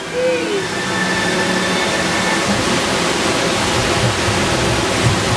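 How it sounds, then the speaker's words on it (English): Dense, continuous rushing water roars close by as a boat on the Maelstrom ride at Epcot passes a waterfall effect, with a faint tonal whine in the background. "Sounds like a waterfall."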